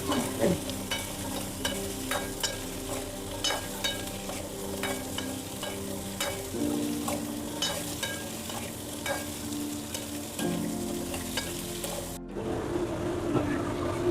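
Small shallots sautéing in a pan for a village-style country chicken curry, with a steady frying hiss and repeated spoon scrapes and stirs throughout, while faint tonal sounds linger underneath.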